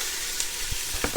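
An onion sizzles steadily in oil in a pan, close and even, with a few soft clicks of stirring near the end.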